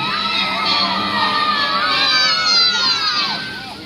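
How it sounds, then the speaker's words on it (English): Crowd of children at Knoebels amusement park cheering and shouting loudly together, a dense, sustained roar of high voices that swells and then begins to fade. "They lifted their hands up to the stars and let out the loudest cheer Knoebels has ever heard."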